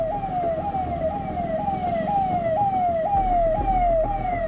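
An ambulance siren wails in a steady repeating rising sweep, loud and close, over the low rumble of road traffic in a long jam on the DND flyway linking Noida and Delhi.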